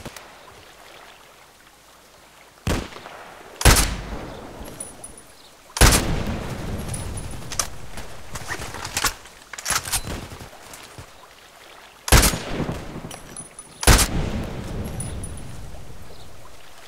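Gunshots from the online shooter Contract Wars, sniper play on the Lighthouse map: several sharp, loud single cracks spaced seconds apart, each trailing into a short rumbling tail over a quiet background.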